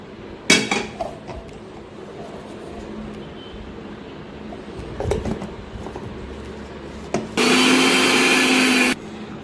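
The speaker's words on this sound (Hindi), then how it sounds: "इसे अब मैं मिक्सी जार में ले लूँगी और इसे हम अच्छी तरह से क्रश कर लेंगे" A kitchen mixer grinder runs in a short loud whirring burst near the end while crushing sesame seeds for Lebanese hummus, after a few knocks and clatters of the jar being handled.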